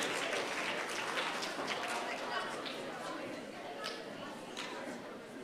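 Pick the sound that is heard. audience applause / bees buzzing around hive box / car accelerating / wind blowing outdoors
audience applause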